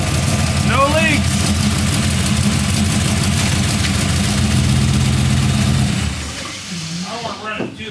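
A 1940 Ford car engine idles with a deep, steady low rumble for about six seconds, then quiets, with people talking over it.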